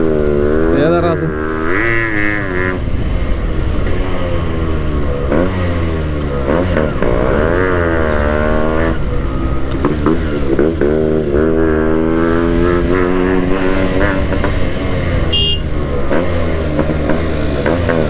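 A Yamaha RX 135 two-stroke motorcycle revs and pulls through rising and falling gear pitches, loud and close. Its engine note sweeps up and down repeatedly, and a voice talks over it.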